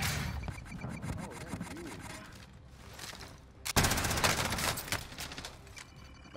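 Rapid bursts of automatic gunfire in an OTS-9 shooter gunfight, a dense clattering run of shots that swells loud after a quieter stretch, with other game sounds around it.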